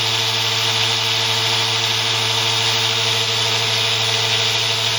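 A parallel-wired 6-pole, 2-coil electric motor running at full speed with no load, giving a steady, loud, unbroken whine and hum that holds constant throughout, alone without talk.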